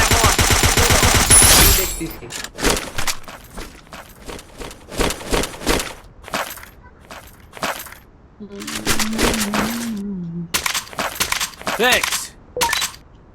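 Sniper rifle shots ring out in a battle royale video game, a string of sharp cracks and bursts spread across the clip, some rapid and close together, with game sounds and occasional voice in between.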